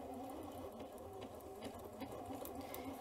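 A Janome C30 sewing machine runs a lock stitch, its needle mechanism whirring and ticking in a steady fast rhythm, close and moderately quiet, with no voices.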